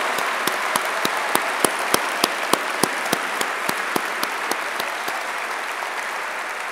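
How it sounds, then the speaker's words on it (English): A graduation audience at Bowling Green High School in 2023 gives a sustained round of applause, with steady crowd clapping and sharp individual claps standing out throughout, fairly close and without speech. "Class of 23, join me in a round of applause"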